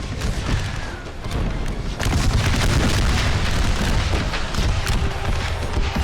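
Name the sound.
guns firing in an American Civil War video game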